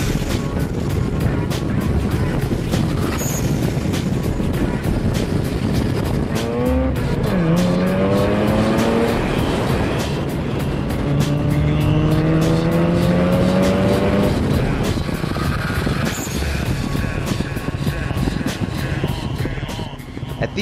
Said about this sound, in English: Feel the sense of speed on this uphill section as they push these cars to the limit.